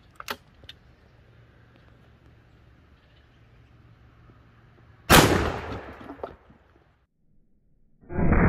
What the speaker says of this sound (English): Let's pop it with a 12 gauge.